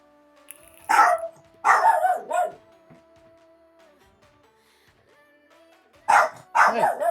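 A dog barks in short, loud bursts close by, first two quick volleys and then two more after a quiet stretch, with faint background tones in between.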